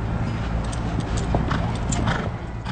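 Thoroughbred horses at the Saratoga Springs Horse Show, hooves clip-clopping in a steady rhythmic stream close by, with a whinny and busy background noise.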